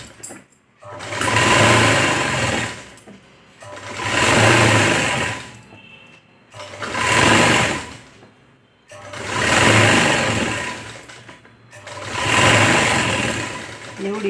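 A sewing machine runs a quarter-inch seam in cloth for a boat-neck collar, in five steady bursts of a few seconds each, with brief stops between them, close and fairly loud.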